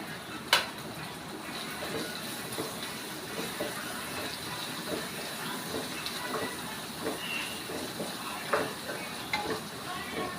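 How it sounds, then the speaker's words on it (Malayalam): Ginger frying and being stirred in a pan while making vegetable upma, a steady close sizzle with scraping stir strokes throughout and no talk. "ഇപ്പോൾ കുറച്ച് നമുക്ക് ഇഞ്ചി ഇടുവേ"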